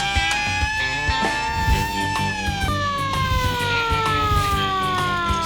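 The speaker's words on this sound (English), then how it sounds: "this air raid siren was mostly used by the Japanese to sound the alarm" A hand-cranked Japanese air raid siren wails loudly, its pitch slowly sliding downward as the cranking winds down, with mechanical rattling underneath.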